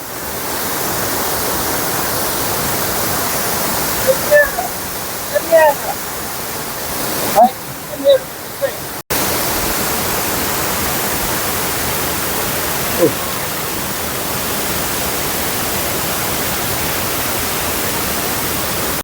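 Steady broadband roar of a waterfall pouring inside a cave in Meghalaya, continuous and fairly loud throughout, with a few brief faint voices and clicks in the middle and a short break partway.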